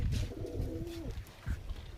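Pigeons coo in a home loft, a soft rising-and-falling coo repeated over about two seconds, close by, with faint rustling and low background noise and no talking.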